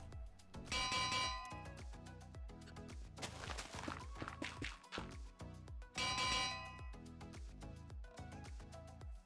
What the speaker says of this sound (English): I'm just going to place three anvils